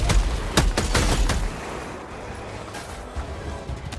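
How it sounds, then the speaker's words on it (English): Video game heavy weapon fire, a series of sharp loud blasts in quick succession over the first second and a half, then fading into a quieter rumbling background with faint distant pops. "I'm bringing in my laser cannon"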